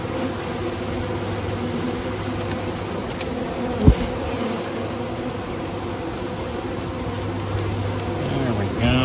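Loud, constant drone of honey bees swarming during a new package installation, close and unbroken, with a brief knock partway through and faint voices at moments.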